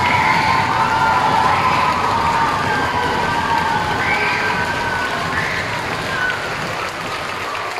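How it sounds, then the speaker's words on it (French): An audience at a children's stage show claps and cheers to welcome the show's director, a steady, loud wash of crowd noise with scattered shouts and a few voices rising above it. "Merci d'applaudir chaleureusement Madame Valérie Lebrun."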